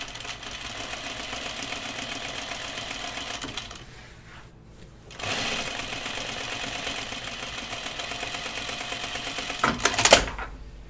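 A sewing machine top stitches overalls, running steadily and close, easing off and pausing briefly in the middle before resuming with a louder stretch and a short clunk near the end.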